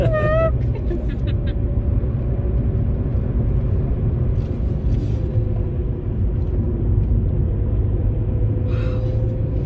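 A car engine rumbles steadily from inside the cabin on the winding mountain road of US 129, Tail of the Dragon, with a brief tire squeal at the start, driving continuously without stopping.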